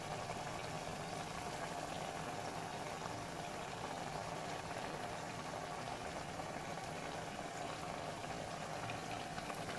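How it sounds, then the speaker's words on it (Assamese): Water boils steadily in a pot while ghila pitha steams, a constant dense bubbling hiss that stays even and close throughout with no pauses. "এয়া দেখিছেনে কিমান ধুনীয়াকৈ উতল আহিছে।"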